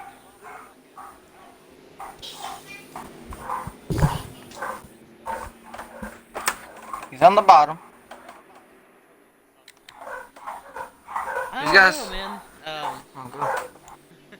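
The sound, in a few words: dogs barking and whimpering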